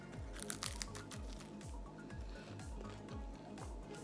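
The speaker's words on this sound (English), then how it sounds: "It has a little crunch to it." Close, quiet chewing on a crunchy sausage keto chaffle: repeated bites and crunches in a steady rhythm, with no talking.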